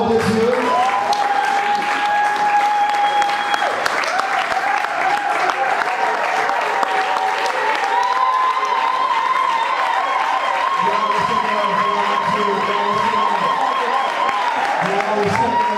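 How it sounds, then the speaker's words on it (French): Church congregation applauding steadily throughout a French-speaking service at Église Hébron in Creil, with a dense, continuous wash of clapping, some cheering and a sustained sung or held voice tone running over it. "Nous allons acclamer"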